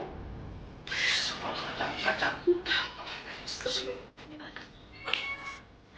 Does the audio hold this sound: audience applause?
no